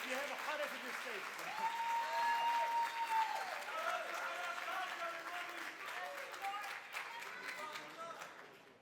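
Conference audience at ArabCon 2025 claps in a soft, sustained wash of hands, somewhat distant, with voices and cheers mixed in.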